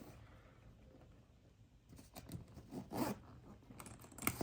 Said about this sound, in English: you actually zip it all the way around